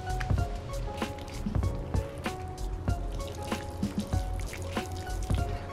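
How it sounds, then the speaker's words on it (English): Clean water is back-flushed through a HydroBlu Versa Flow water filter, giving close, steady dripping and trickling with repeated small splashes and squishy pulses over about six seconds. "We're gonna back flush the filter with this clean water."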